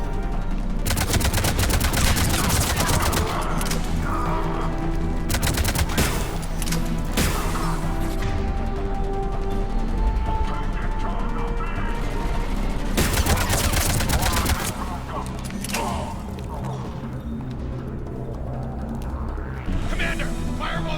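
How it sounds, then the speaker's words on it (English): Gunfire in Mass Effect 3 during a firefight: a dense, loud barrage of automatic shots and bursts fills the stretch, with short pauses and explosive impacts, thinning toward the end. "He's taking fire! Protect him."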